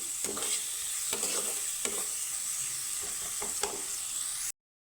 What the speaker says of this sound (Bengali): তো পেঁয়াজটাকে আমি একটু হালকা ভেজে নিব